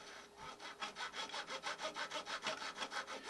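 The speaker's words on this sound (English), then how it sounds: "I use my razor saw and I just drag it across" Razor saw drawn in steady rhythmic strokes across a copper rail on a Fast Tracks turnout jig, about a dozen close, even rasping passes with no talk.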